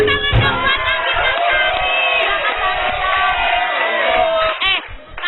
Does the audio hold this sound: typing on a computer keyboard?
no